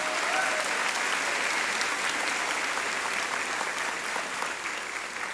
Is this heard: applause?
yes